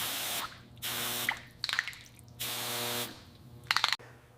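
Liquid sprays in bursts over an old piston from a 1960s Triumph Bonneville T120 engine being cleaned, with three sustained hissing jets broken by short drips and clinks.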